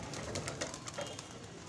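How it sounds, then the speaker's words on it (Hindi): Pet pigeon cooing softly in short repeated throaty coos, faint and close, with quiet background noise and no clear talking. "ये अभी हमारा कबूतर है ना"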